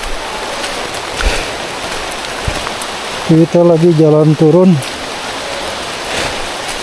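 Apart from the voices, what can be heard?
rain falling while walking down Gunung Luhur mountain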